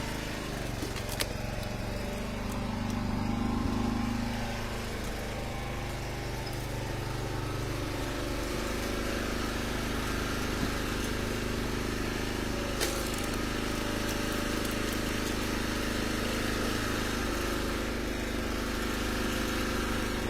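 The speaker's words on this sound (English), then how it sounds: "this splitter's kind of loud" A small log splitter engine runs steadily and loudly throughout while splitting ash rounds outdoors, a constant mechanical drone with a slight surge near the start.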